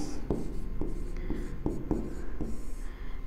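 Pen strokes from someone handwriting notes, with several short scratchy marks spaced irregularly against a steady background murmur.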